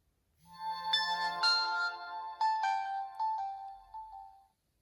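A Samsung phone's shutdown tone plays alone, a short bright melodic ringtone-like jingle of several chiming notes over about four seconds, clear and close with no talk.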